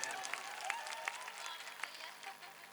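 An audience at a wedding gathering claps, a fairly faint, loose patter of applause with a few sharper individual claps standing out against a distant, reverberant background.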